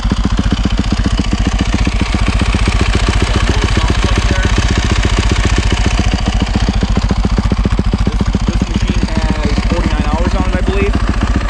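A 2019 Yamaha YZ450F converted to supermoto, fuel-injected and fitted with an FMF exhaust, idles warm with a loud, steady, close thumping pulse that runs the whole time.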